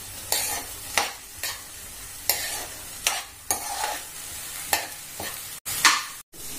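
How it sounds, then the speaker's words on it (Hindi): Sprouts roasting in a pan, with repeated stir strokes about once a second, each a short scraping sizzle over a low frying hiss, close by and with no talk, ending in a couple of abrupt clicks. "मैं इनको थोड़ा सा भून देती हूँ।"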